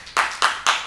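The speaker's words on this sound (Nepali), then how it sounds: "उहाँलाई जोरदार ताली।" An audience claps in honour of a donor at a Nepali charity programme: three sharp, evenly spaced bursts of clapping in under a second, fairly loud and close, with no voices.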